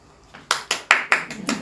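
A few people in a lecture audience clap at a museum talk, a short run of about six close, sharp handclaps spaced evenly with no talk over them.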